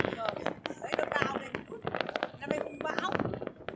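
Village fireworks and firecrackers crackle and pop in dense, rapid bursts over a few seconds, close and fairly loud, with people talking excitedly over them.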